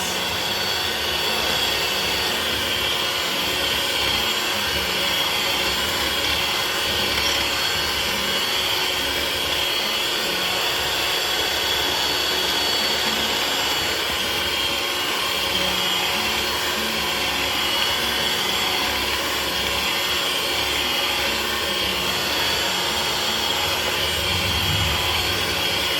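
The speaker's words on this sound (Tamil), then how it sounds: "பட்டர் சுகர்லாம் க்ரீம் பண்ணியாச்சு" An electric mixer creams butter and sugar for madeleines, giving a constant, loud whirring drone that runs unbroken from start to finish with no talk.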